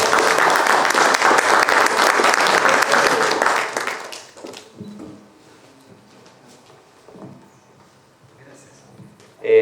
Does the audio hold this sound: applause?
yes